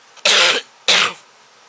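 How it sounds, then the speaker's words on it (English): Two harsh, breathy coughs close to the microphone, about half a second apart, then quiet, while playing Minecraft. "Sorry again for the coughing."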